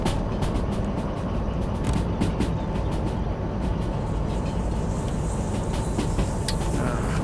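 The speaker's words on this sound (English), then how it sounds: "now we've got the beautiful sound of the train" A freight train runs in the railway simulator game Derail Valley, hauling tanker cars. A dense, continuous rolling rumble holds steady throughout, with faint clicks and rattles on top and no talking.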